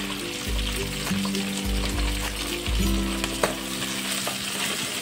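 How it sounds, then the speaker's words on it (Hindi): Chopped onion and capsicum hit two spoons of hot oil in a kadai, crackling in a loud, continuous sizzle with stirring scrapes over soft background music. "कढ़ाई में 2 चम्मच ऑयल डाल दिया है, इसमें हम प्याज डाल देंगे और शिमला मिर्च को भी डाल देंगे।"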